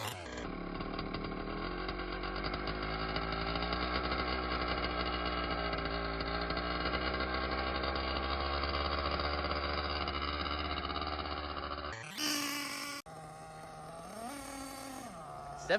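Nitro-powered Losi LST RC truck (Dynamite Big Red setup) warming up, its small engine buzzing steadily and loudly for about twelve seconds before cutting out, followed by brief quieter mechanical noises.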